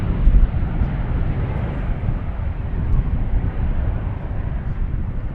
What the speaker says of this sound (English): You could tell how silent these new airplanes are.